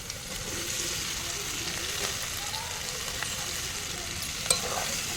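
Boiled potatoes fry in a pan and are stirred, giving a soft, steady sizzle and hiss with faint scraping and a small clink near the end, heard up close and fairly quiet.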